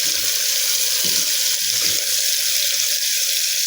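Onions sauté in hot oil for a traditional Maharashtrian chawli batata rassa bhaji, giving a steady close hiss with a few soft low knocks underneath.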